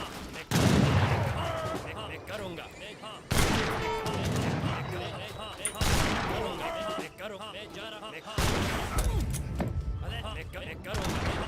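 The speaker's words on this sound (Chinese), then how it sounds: "哦，大炮，还有个大炮。" Repeated booming cannon blasts in Age of Empires III: Definitive Edition erupt every few seconds, with rattling shots and a voice talking over the action.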